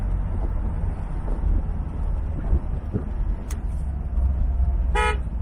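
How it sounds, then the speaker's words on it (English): A short horn beep from a 1968 Chevrolet Corvette Convertible sounds near the end, after some faint clicks over steady engine idle and outdoor rumble. "Horn works on the car."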